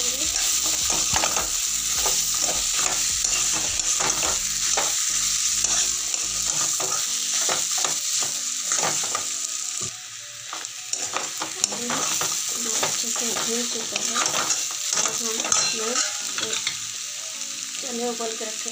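Mashed potato fries and is stirred in a pan of chole, giving a loud continuous sizzle broken by frequent scraping and clattering stir strokes that ease slightly midway.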